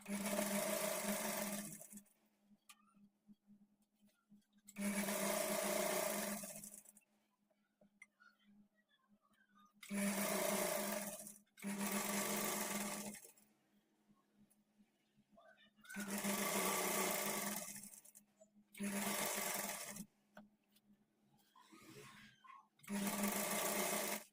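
Domestic sewing machine stitching a folded trouser hem, running in several loud bursts of a few seconds each, separated by short pauses while the fabric is repositioned.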